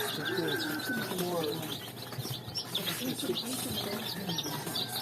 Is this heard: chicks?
yes